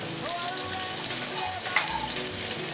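Shaved red cabbage frying in a hot pan, a dense, even crackling sizzle with a few stirring knocks, close and steady, with faint tonal sounds in the background.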